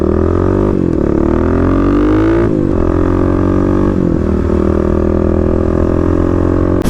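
A Kawasaki KLX351 motorcycle rides through city streets, its engine a loud, continuous close drone that rises and dips with throttle changes and gear shifts, with no talking.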